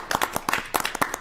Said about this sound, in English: Applause for Mr. McDonald.